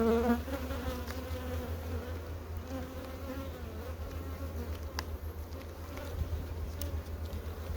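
A honey bee swarm hums with a dense, steady buzz, close and continuous, with individual bees droning past.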